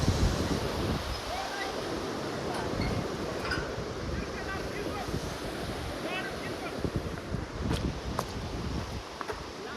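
Water rushes at a river confluence, the Para Khola, in a loud continuous roar with wind buffeting the microphone and a person talking over it.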